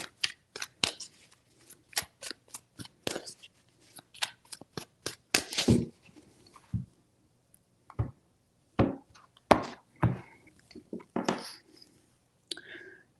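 Tarot deck shuffled by hand, a fast run of crisp card snaps followed by sparser irregular flicks and riffles, close and fairly quiet.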